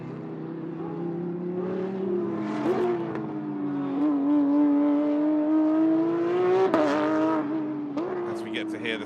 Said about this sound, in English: we get to hear the sounds of that Porsche Cup car. Jesus, that is loud